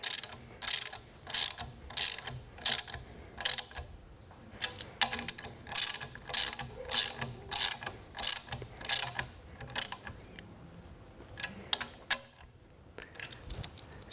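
A socket wrench with a 3/4 inch socket ratchets down the bolts of a Grizzly ShopFox knife modification kit, giving bursts of rapid, close clicking with short pauses between strokes.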